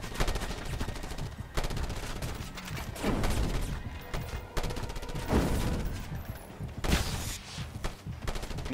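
Rapid automatic gunfire from the video game Just Cause 2 rattles in repeated bursts with brief pauses between volleys, loud and close throughout.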